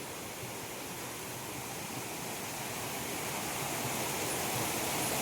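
A waterfall running low after a week without rain gives off a steady, broad rushing hiss that holds even and continuous throughout, with no voices over it.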